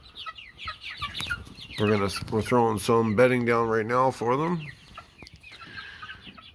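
Young Jubilee chickens cluck and chatter close by in a tent as bedding is thrown down, soft clucks scattered around someone talking over them.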